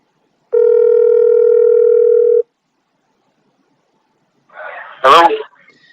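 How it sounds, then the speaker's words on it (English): A steady telephone dial tone hums for about two seconds, then drops to silence before a brief rustle and a short spoken voice close to the phone. "Patrick and Josiah would hold another phone interview session to discuss the developments"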